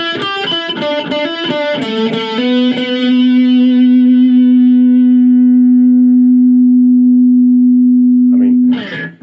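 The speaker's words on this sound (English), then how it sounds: "Starting to feed back a little bit there, even at these low volume levels" A Blackstar ID Core V3 guitar amp on a distorted setting plays a few quick chords, then one sustained note swells into a loud, steady feedback tone before cutting off.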